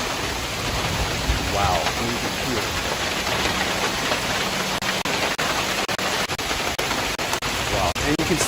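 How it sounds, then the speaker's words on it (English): Pea to quarter size hail in a San Antonio area severe storm pelts signs and cars, a loud dense continuous clatter and hiss with sharp individual impacts, while a voice briefly exclaims over it. "That's hail hitting signs. That's hail hitting cars."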